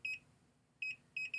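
Continuity tester used on audio cable wires, giving sharp high electronic beeps: a double beep, a pause, then another double beep and a quick run of further beeps over a faint low hum.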